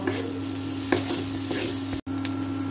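Spiced potatoes for aloo dum are stirred and fried in a pan, with a steady close sizzle and a few scraping strokes of the spoon, no voices.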